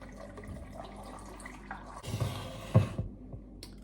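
About a litre and a half of water pours into a homemade drink of lemon juice and parsley, a short splashing gush that rises abruptly after quiet kitchen sounds and then trickles off.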